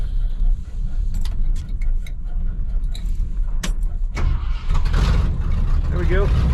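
A 1969 crew cab truck engine cranks and catches, a rough low rumble building over rattling clatter and keys jingling, with a person's voice over it.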